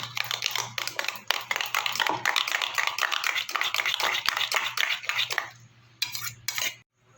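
Egg mixture with turmeric being whisked in a bowl, a fast, close, continuous rhythmic clatter of utensil against bowl that slows and stops near the end.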